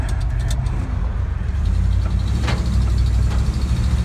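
Old Dodge D100 pickup truck engine running rough while driving, a loud low rumbling drone close by with a few clunks and rattles and no speech.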